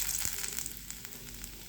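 Mustard seeds, cumin and small pieces of ginger frying in hot oil for upma, a soft, steady sizzle with a few faint crackles and pops, quiet and close.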